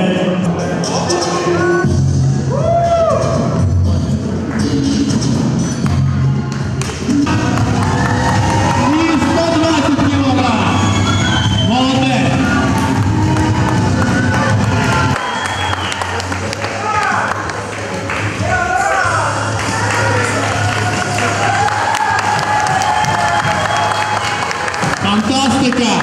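Audience applauding the coaches at a sports dance club event, sustained clapping and crowd noise across the whole stretch with a voice talking over it.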